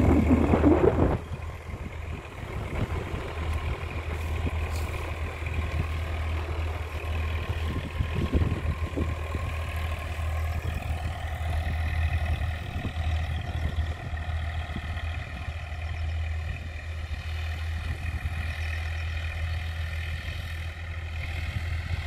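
A 2018 Massey Ferguson 245 DI tractor engine idles steadily with a deep, continuous rumble and light clattering, holding nearly constant after a brief louder knock at the start.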